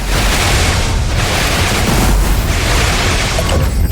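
Spaceship shield weapon firing in the space combat game Everspace 2, a loud continuous booming, crackling blast roar that fills the whole clip.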